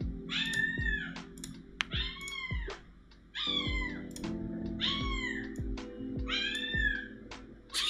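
A cat meows loudly and insistently about six times in a steady rhythm, close by. Soft computer-keyboard typing clatters beneath it.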